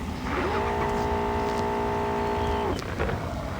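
A car engine in the mobile game Car Parking Multiplayer holds a steady, rising rev tone for about two seconds against a constant loud noisy background, then drops away, with faint voice-like sounds mixed in.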